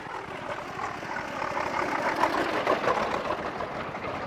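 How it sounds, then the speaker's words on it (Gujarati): A tractor hauling a load of dry hay passes nearby, its engine drone rising as it draws closest and then easing off. "તો નીકળી જાય ટ્રેક્ટર."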